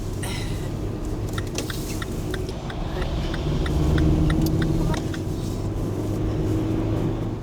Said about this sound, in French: nous allons être doublés par un énorme camion